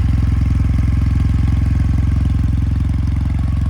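A 2022 Kawasaki W800 with a 360-degree parallel twin engine idles close by, its steady, loud, even thumping beat running throughout with no voices.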